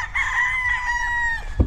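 A gamefowl rooster crows at Kodja Game Farm, one long, loud, harmonic cock-a-doodle-doo lasting over a second, with other fowl faintly in the background.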